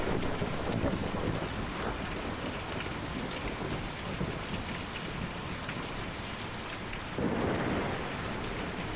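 Steady heavy rain with rumbling thunder in the video game Kentucky Route Zero, a dense continuous downpour with a louder swell of thunder near the end, no talking.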